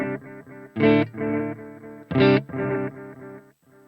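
An electric guitar runs through a POD Go modeler on the Adriatic delay preset, playing short chordal notes with two louder accented hits, the repeats trailing off quietly at the end.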